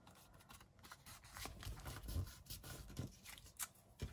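Scissors snip through brown envelope paper for a junk journal, a quiet, close series of crisp cutting and rustling sounds with no talking.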